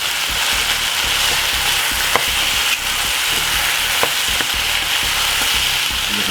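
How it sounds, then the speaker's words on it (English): Chicken stew with rice is stirred in a pot, with steady loud sizzling and bubbling throughout and a few faint scrapes of the spoon against the pot. "Give it a lovely stir."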